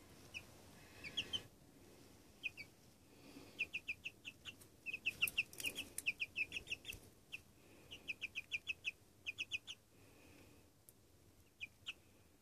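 Chickens and a small chick cluck in short, quick runs of sharp calls that come in bursts with pauses between them, close by over a quiet background.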